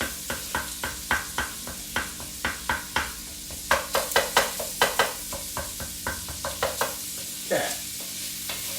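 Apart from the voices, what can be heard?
meat for chili frying and being stirred in a pan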